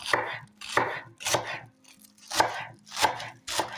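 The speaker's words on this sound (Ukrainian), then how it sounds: "І так само нарізаю цибульку." A knife chops green onion rhythmically on a cutting board, about seven crisp, evenly spaced strikes, close and clear with no talking.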